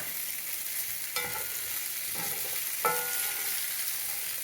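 Salt and pepper shrimp sizzle steadily as they are reheated in a hot pan, with a few sharp clinks of a utensil stirring them, close and alone without speech.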